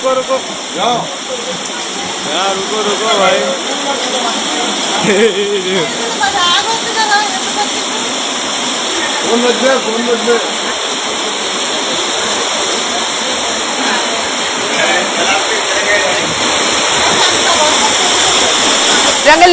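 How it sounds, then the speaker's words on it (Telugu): Heavy torrential rain pours down in Hyderabad, a loud, continuous hiss that runs throughout while a voice talks over it. "తెల్లవారుజాము నుంచి మొదలైన వర్షం కుండపోతగా మారింది"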